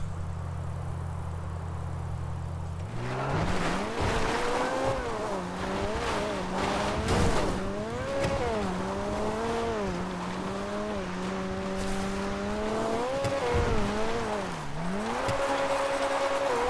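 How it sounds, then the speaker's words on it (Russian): A sports car in GTA 5 climbs a mountain road, its engine droning loud and steady and rising and falling in pitch as it shifts and revs, with occasional tire scrubs. The sound is continuous and up close, with no talk. "Спортивная машина лучше едет на гору, чем внедорожник"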